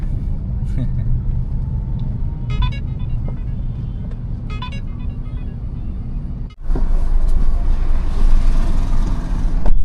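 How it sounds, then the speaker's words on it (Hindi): Steady roar of traffic with autos and e-rickshaws around the Bhopal bus stand area, a continuous loud rumble with a couple of faint horn toots. Someone talks over it throughout. "तो ये है भाई भोपाल का बस स्टैंड का एरिया और वहाँ का ट्रैफिक।"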